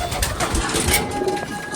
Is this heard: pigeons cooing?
yes